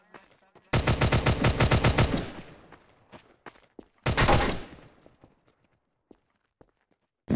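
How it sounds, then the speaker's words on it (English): Rapid bursts of gunfire from weapons in Garry's Mod, a long fast volley followed by a shorter burst, loud and close, with scattered faint clicks between. "I am firing as fast as I can"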